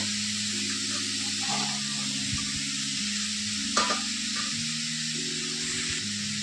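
Fried lentil fritters go into a pan of papaya curry, setting off a steady, close sizzle and frying hiss with soft stirring scrapes and a brief clink near the middle.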